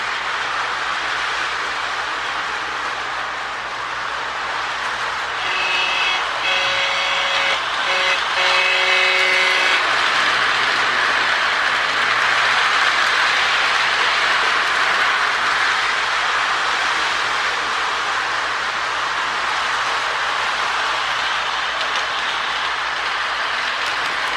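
A Lionel GP9 Erie Lackawanna model locomotive runs along its track with a continuous loud motor whir and rolling rumble, with a brief patch of tonal whine partway through and no talk.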